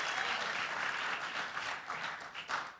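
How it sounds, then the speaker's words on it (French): A youth church audience applauds the team, a continuous wash of many hands clapping at moderate volume, steady and fairly distant with slight swells. "On peut les applaudir, toute l'équipe de Méta, vraiment."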